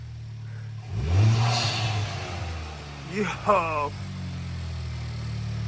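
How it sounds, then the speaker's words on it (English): Honda Civic Type R FK8 fitted with an Eventuri intake revs hard twice in quick succession, a rising engine roar followed by a second sharper blip over a steady idle, with people whooping and talking nearby. "Now we're gonna get the first new rev with the air intake"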